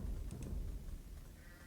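A sheep bleats faintly in an Age of Empires style strategy match, two short soft bleats near the start over a low rumbling game background, with no talk.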